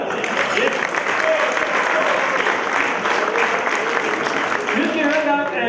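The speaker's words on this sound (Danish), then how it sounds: "Skal vi ikke lige give dem et bifald?" A live audience applauds at a Danish show, steady dense clapping that stays loud and even throughout, with a few voices faintly mixed into the crowd noise.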